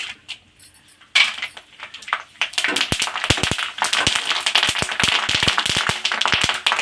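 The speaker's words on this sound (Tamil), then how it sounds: "விதெல்லாம் இருக்குதுல்ல அதனால் அது வெடிக்குது" Dried ivy gourd vathal fries in hot oil on a low flame, its seeds cracking and popping in a rapid irregular series of sharp, loud snaps over a steady sizzle.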